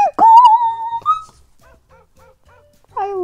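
Beagle in the Minecraft game whimpering, a loud high whine that slides and holds, followed by a run of faint short yips and another whimper at the end, alone without talking.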